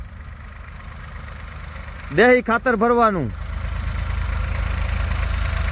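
A tractor engine in a farm field idles as a steady low drone throughout, with a brief spoken phrase over it midway.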